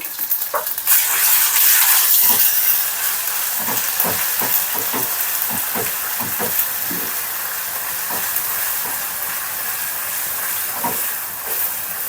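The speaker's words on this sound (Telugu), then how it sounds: "అల్లం వెల్లుల్లి పేస్ట్ పచ్చివాసన లేకుండా ఆయిల్లో బాగా ఫ్రై చేసుకోవాలి" Ginger garlic paste frying in hot oil, a loud sizzle that settles into a steady hiss, with frequent spoon-scraping taps as it is stirred.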